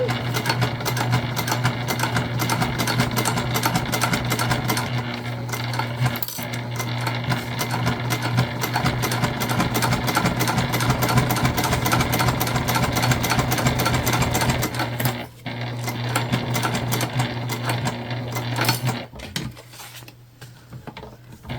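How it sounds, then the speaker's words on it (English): A sewing machine runs in a steady, rapid stitching rhythm along the bottom seam of a fabric candy bag, close and continuous, then slows and stops near the end. "we're just going to make sure we try to stay as even as possible when we're stitching our"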